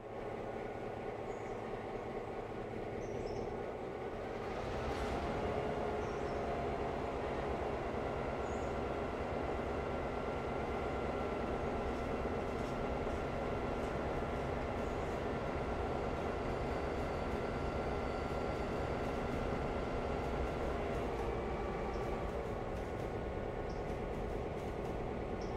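A steam-era train locomotive runs in the railroad simulation game Railroader, a sustained rumbling drone with rhythmic mechanical chuffing, steady and loud throughout with a brief sharper hiss early on.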